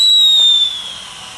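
A Lidl firework whistling shrilly as it flies, a single steady high-pitched tone that fades within about a second, with no voices heard.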